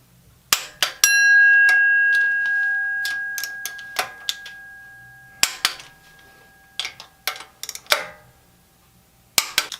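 A torque wrench tightens water pump bolts on a 350Z with an LS1 swap, a series of sharp metallic clicks and ratchet ticks in irregular bursts, with one ringing metallic ping near the start.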